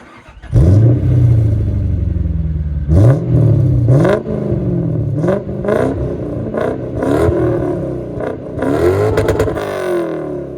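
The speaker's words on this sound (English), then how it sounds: "My particular car has a custom exhaust setup as well, so it sounds very nice" A Toyota Soarer engine with a custom exhaust cranks and catches, then revs hard several times in sharp bursts through a throaty, deep exhaust, loud and close.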